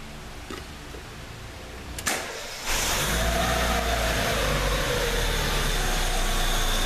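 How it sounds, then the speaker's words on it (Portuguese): A Fiat Uno 1.0 8v Fire engine in a mechanic's workshop gives a brief crank, catches, and settles into a steady, smooth idle that hums on close by, with no talking over it. "Vamos ligar o carro lá"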